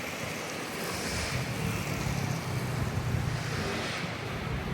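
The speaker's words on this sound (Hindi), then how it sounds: "यहाँ पर ब्राइटन बीच है, आपको दिखा देता हूँ।" Surf and wind at Brighton beach in the UK during a cold winter, a steady broadband wash of waves with low rumble, continuous and fairly loud throughout with no voices.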